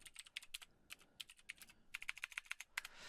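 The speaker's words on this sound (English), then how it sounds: "Apparently I can't type and talk at the same time." Quiet, close clicking of a computer keyboard, with bursts of uneven keystrokes and a faster run of taps near the end, and no talking over it.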